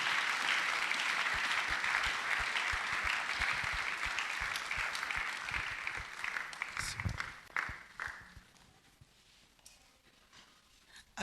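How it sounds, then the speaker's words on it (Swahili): A church congregation at a Sunday service in Goma claps loudly and continuously, the dense applause fading out over the last few seconds into quieter scattered claps. "Acclame encore très fort."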